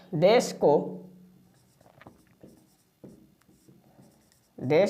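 Faint, scratchy writing strokes on a board during a spoken English lesson, brief and intermittent in the pause between bursts of a teacher's speech at the start and end.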